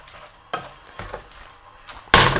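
Carbonara sauce stirred in a hot pan makes a quiet, soft sizzle with several scraping strokes of a utensil, then a louder, brighter burst of sizzling near the end.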